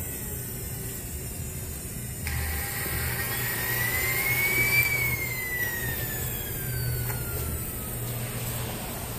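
Burgen turbine helicopter engine running through its automatic cool-down, a fairly quiet steady turbine whine that rises and falls in pitch over a low rumbling drone, with faint tonal sweeps across the span.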